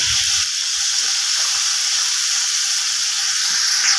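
Water poured into spiced bottle gourd frying in a pan sets off a loud, broad steaming hiss that holds steady and close, with a brief bubbling rush at the start.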